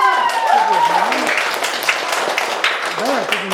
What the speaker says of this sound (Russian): давайте еще раз похлопаем, ребята